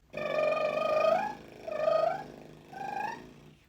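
A voice sings three buzzing, fluttering lip trills, each sliding upward in pitch, with brief pauses between them.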